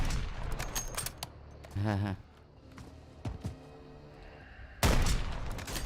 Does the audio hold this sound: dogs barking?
no